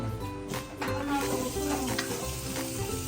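Food frying in a pan, likely Filipino lumpia shanghai, sizzles steadily and close, with some light clinking and tonal background noise underneath.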